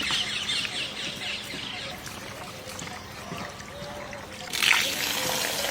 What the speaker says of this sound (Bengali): এরকম দু তিনবার ধুতে হবে আস্তে আস্তে ধুতে হবে